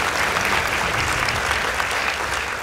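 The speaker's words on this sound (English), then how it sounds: "Please give them a round of applause." Audience applause for the school debate teams of Kathiani Boys High School and Kisau Girls: a dense, steady wash of clapping from a packed hall, holding at an even level throughout with no voices rising above it.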